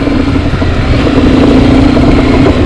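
A Honda XRE300 motorcycle being ridden, its engine droning steadily and loudly up close with a constant mid-pitched hum and wind rush throughout.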